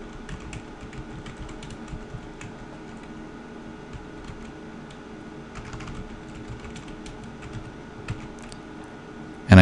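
Steady close typing on a computer keyboard while entering an Ansible Vault decrypt command, with continuous rapid key clicks and small bursts over a low room hum.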